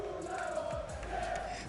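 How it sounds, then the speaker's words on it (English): A French crowd roars and chants at the Fortnite FNCS Global Championship, a dense, loud and steady wall of cheering voices filling the arena without pause. "apparently the French community, they can cheer the loudest"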